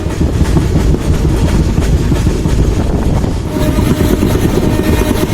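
A passenger train runs on rails between Najibabad and Gajraula, a loud, continuous close rumble with rhythmic clickety-clack of wheels over rail joints throughout.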